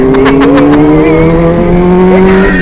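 A loud, close Kawasaki Ninja H2 sport motorcycle engine revs at a steady high pitch with harmonic whine, holding revs throughout with faint clicking at the start.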